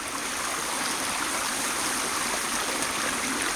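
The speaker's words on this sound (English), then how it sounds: "fill with a good amount of water" Water from a stream pouring into the outer sleeve of a Grail water-filter bottle on a hike: a close, constant rushing burble, loud and unbroken throughout, no speech.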